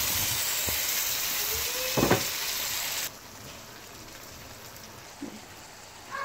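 Half a cup of water poured into a hot pot of tandoori chicken bhuna: a loud, steady hiss and sizzle that cuts off abruptly about halfway, leaving a quiet background with a couple of faint clinks.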